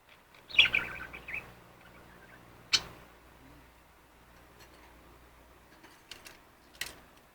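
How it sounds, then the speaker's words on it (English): A pet bird in a home gives a loud squawk followed by scattered sharp chirps and a few fainter calls, heard close and alone against a quiet room. "she was squawking earlier, but she's apparently really quiet now"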